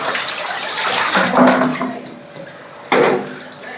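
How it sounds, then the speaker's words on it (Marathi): Dirty water is dumped out of a tub in splashing gushes: one long pour, then a second sudden surge, close by with no talking. "पाणी लय घाण झाले त्यामुळं ओतून दिलं"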